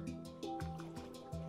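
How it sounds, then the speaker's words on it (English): Drinking a water breathing potion in Minecraft, heard as a run of short, regular gulping and liquid squelch sounds repeating about every third of a second, close and fairly quiet, with a faint tonal background underneath. "drink the water breathing potion now"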